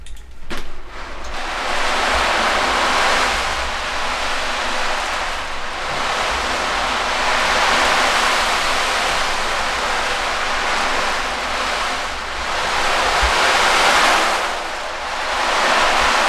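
An ocean drum, a frame drum filled with rolling beads, imitates sea waves: continuous loud wash that swells and ebbs in slow surges, like surf breaking over and over.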